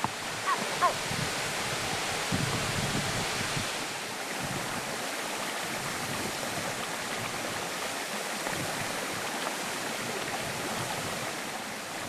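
A waterfall and mountain stream in Bolivia, with a steady broadband rush of falling and flowing water, fairly loud and continuous, with wind buffeting the microphone at times.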